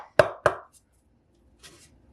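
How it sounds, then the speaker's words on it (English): Two sharp, distinct taps on a bread loaf pan holding freshly baked soft wheat bread, knocked to loosen the bottom, close and clear, followed by a faint brief rustle. "Give it some taps to loosen up the bottom."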